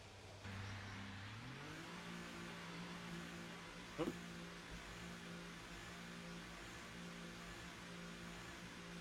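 Racing car engine in a racing video game holding a steady, droning note that rises once in pitch early on, running continuously at moderate level with no talk.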